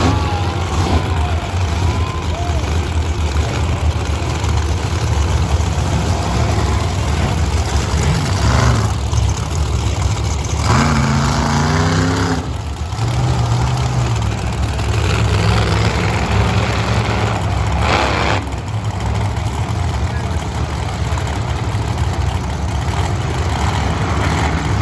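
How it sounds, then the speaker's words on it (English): Monster truck engines at a nighttime arena show firing up, a heavy, loud low rumble of idling and revving that runs throughout with brief surges and a few distorted bursts. "gentlemen, start your engine!"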